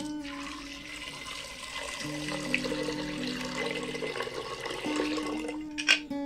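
Water runs steadily into a pressure-cooker pot of chickpeas (chana) and halved potatoes with salt and turmeric, a continuous close pour with a few shifting tones and a brief louder splash near the end.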